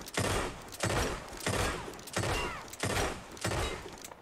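Gunshots in a Red Dead roleplay game, six loud evenly spaced blasts about every two-thirds of a second, each with a short decaying tail.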